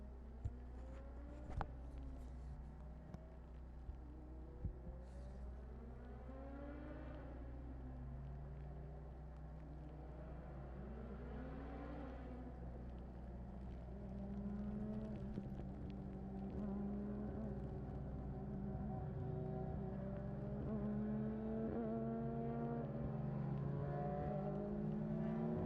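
Vintage race cars in an SVRA Group 9 feature race at Watkins Glen in 2022, engines droning and shifting pitch as they pass, a steady mechanical roar that swells louder in the second half, with no talk.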